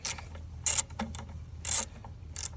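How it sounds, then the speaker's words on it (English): A hand ratchet clicks in short bursts while tightening alternator bolts on a 2003 Ford Crown Victoria, several distinct ratcheting strokes close by with brief pauses between them and no talking. "Ratchet this bad boy all the way down."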